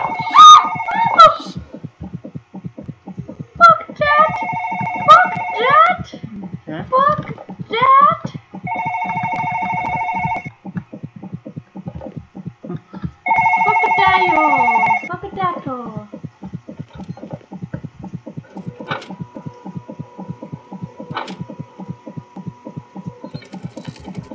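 A telephone rings in the horror video game One Late Night, in repeated bursts of a steady electronic ring separated by pauses, heard over a low throbbing heartbeat-like pulse.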